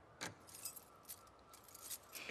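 Keys jangle in The Last of Us Part II, a burst of metallic clinks near the start followed by lighter scattered rattles over faint background ambience.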